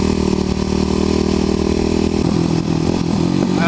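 A Kawasaki KLX250SF dual-sport motorcycle's single-cylinder engine drones loud and close while riding a rough, washed-out backroad, holding a steady throttle with a slight shift in pitch near the end.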